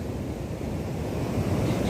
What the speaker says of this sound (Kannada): ಇಲ್ಲಿ ಗಾಳಿ ಜಾಸ್ತಿ ಆದ ತಕ್ಷಣ ತೆರೆಗಳ ಅಬ್ಬರ ಜಾಸ್ತಿ ಆಗಿರುತ್ತೆ